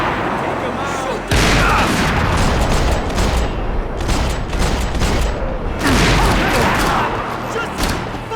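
Gunfire during a Max Payne 3 firefight, with loud, dense bursts of shots and booming impacts filling the whole stretch, while voices shout over the shooting.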